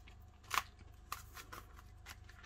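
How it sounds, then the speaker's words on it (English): Scissors snipping through a sticker on a package of scrapbooking papers, a few close, crisp cuts with one sharp snip standing out, quiet room and no talk. "I have to cut the sticker."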